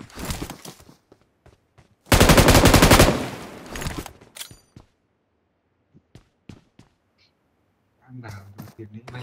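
Bursts of rapid gunfire ring out in a mobile shooter game, one dense volley loud and close, then scattered shorter shots and clicks, with a voice speaking briefly near the end.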